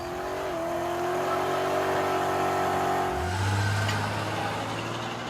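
A car engine revs hard on asphalt, holding a rising whine before dropping and surging into a deeper, louder acceleration roar. It is close and alone, with no talk.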